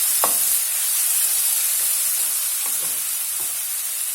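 Chili paste sizzles in a pan while being sautéed for ivy gourd rice, a steady bright hiss with a few soft stirring scrapes, close and continuous without any talking.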